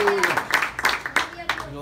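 A church congregation claps in a steady rhythm, the sharp bursts of hand claps repeating roughly every third of a second beneath a voice, with talk running over them.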